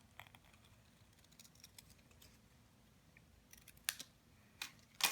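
Scissors snip around a stamped paper image in a quiet room: a few faint cuts at first, then three sharper, closer snips near the end.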